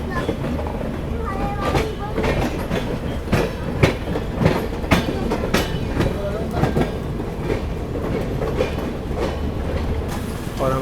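Passenger train running on rails alongside the Lucknow–Chandigarh Express in a parallel run, wheels clattering in steady clickety-clack rhythm with loud rumble and periodic sharp knocks throughout, with some voices underneath.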